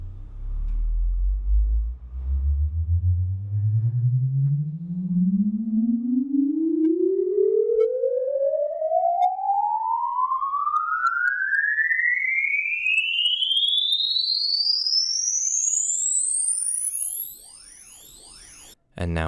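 A loud sine wave test tone sweeps steadily upward from a deep bass hum to a piercing high whistle over about eighteen seconds, recorded in an office with the door open, with faint reflections trailing the rising tone.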